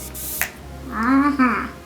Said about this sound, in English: I'm going to spray the palette brush to dip into that glitter.